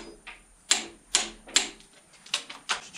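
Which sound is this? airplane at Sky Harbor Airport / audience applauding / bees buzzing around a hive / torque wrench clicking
torque wrench clicking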